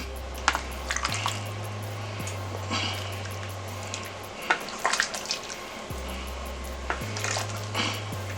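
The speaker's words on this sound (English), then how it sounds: "I'm going to stir this up just a little bit." Heavy cream stirred into Zuppa Toscana soup in a pot, soft clinks and scrapes of a utensil against the metal with faint liquid sloshing, fairly quiet and close over a low appliance hum.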